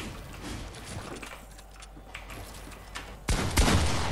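Rapid gunfire in a Fortnite match, heard as scattered, muffled shots through game noise and then a sudden loud close burst near the end.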